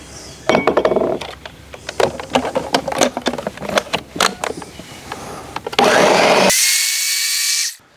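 A blender purees jalapenos with peach preserves and wet and dry ingredients in a loud, uneven churning burst, then switches to a steady high whir before cutting off near the end.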